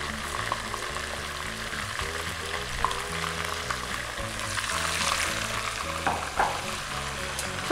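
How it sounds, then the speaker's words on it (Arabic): Onion frying in a pot for Adeni zurbian, a close, steady sizzle with light stirring and scraping throughout, no talking. "رح نضيف بالطنجرة من تحت شوي من البصل"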